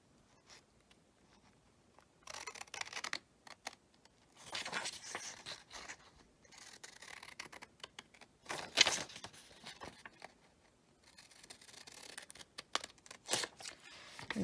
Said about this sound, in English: And then this foldable, you're going to cut along the solid line.